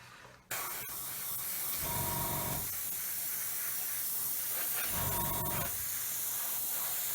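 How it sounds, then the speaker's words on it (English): An airbrush sprays a light coat of matte varnish on a 1/32 Airfix Humber scale model: a steady close hiss of air runs throughout, with two louder bursts of spray partway through. "You can see the matte coat going on very, very lightly. I'm angling the airbrush away from the instrument panel"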